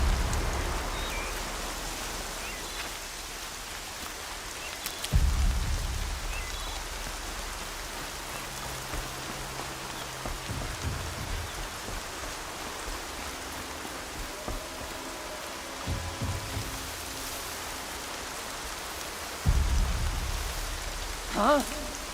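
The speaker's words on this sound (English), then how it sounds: "Rain's not so bad." Rain falls steadily in the Horizon Zero Dawn video game, a continuous hiss of drops on surfaces with occasional heavier low thumps, no voices over it.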